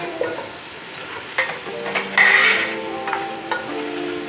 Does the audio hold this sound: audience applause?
no